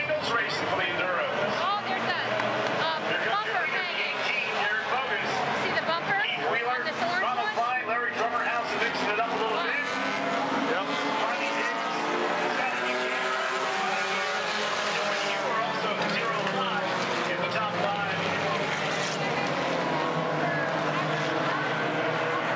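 Enduro race cars at Langley Speedway roar around the oval in a continuous, fluctuating pack drone, with a commentator talking over the engines throughout.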